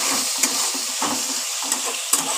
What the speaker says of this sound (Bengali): ভালো করে একটুখানি ভাজা ভাজা করে নেব।